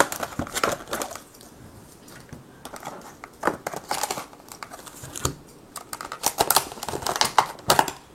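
Cardboard and plastic packaging of a board game box crinkles and snaps up close as it is opened, in irregular bursts of crackling and tearing with short quieter gaps.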